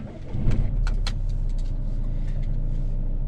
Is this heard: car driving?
yes